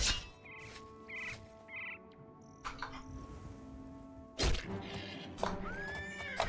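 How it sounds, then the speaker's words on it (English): Horses whinnying and neighing in the game Oblivion, several distinct high calls at moderate distance over a quiet ambient background, punctuated by a heavy thud partway through. "Oh, horses."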